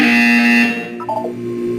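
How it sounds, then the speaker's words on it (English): A steady electronic buzzer tone from the video game Portal 2 sounds loudly for most of a second, then cuts off, leaving a quieter hum with a few brief blips. "When you hear the buzzer, look up at the ceiling."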